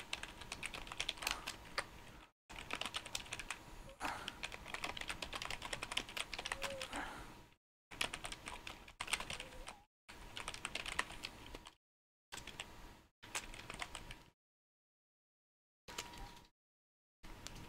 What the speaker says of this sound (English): I think I know what you were typing